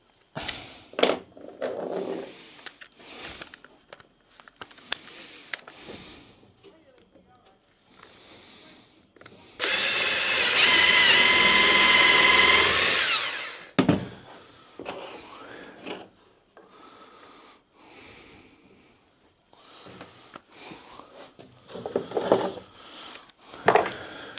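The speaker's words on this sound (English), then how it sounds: "start drilling them back up" A power drill with a countersunk bit whines loudly for about four seconds, driving into a wooden campervan locker, with quieter knocks, handling noises and brief talk before and after.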